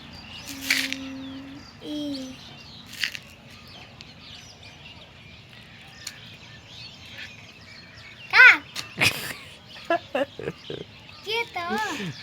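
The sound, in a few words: crow cawing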